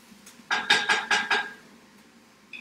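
Vegetables with ginger are stirred in a pan: after a quiet start, four or five quick, bright scraping clinks of a utensil against the pan come in a rhythmic burst, then fade to near silence before a faint final knock.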